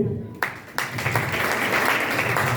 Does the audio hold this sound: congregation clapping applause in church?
yes